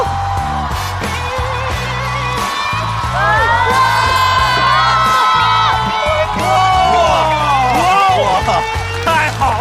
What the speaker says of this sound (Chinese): 掌声送给王小丽！